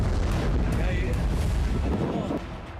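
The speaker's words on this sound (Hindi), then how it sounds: "बालबेक में कई राउंड की बमबारी कर इजराइल ने हिजबुल्लाह के हथियार गोदाम, रॉकेट लॉन्च साइट और कई ठिकानों को तबाह कर दिया।" Heavy, rumbling blasts from Israeli bombing of Hezbollah weapons depots and rocket launch sites in Baalbek, Lebanon, a dense continuous roar of booms fading slightly near the end, loud and broadband.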